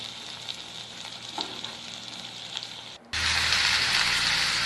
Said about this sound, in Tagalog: Igisa lang ang mga naunang rekado.